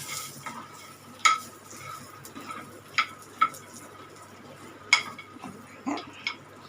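Peanuts and garlic roast in a hot pan with a soft, low crackle, broken by several sharp clinks of a utensil scraping and tapping the pan at uneven intervals, close and fairly quiet.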